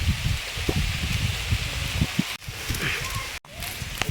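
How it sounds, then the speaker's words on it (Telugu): Heavy rain pours down outdoors in a steady, dense hiss that stays loud throughout, broken by two brief dropouts. "ఇగో ఎట్లా పడుతుంది వాన ఘోరంగా"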